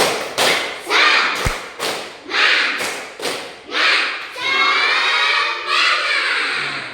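Classroom group doing tepuk semangat, a rhythmic chant of loud, heavy clap bursts in a patterned sequence, with voices shouting together toward the end.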